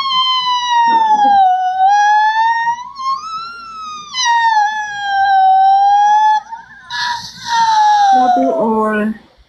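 A human voice imitates an ambulance or fire truck siren in a long, loud, close wail that rises and falls for several seconds, with other voices chiming in briefly near the end.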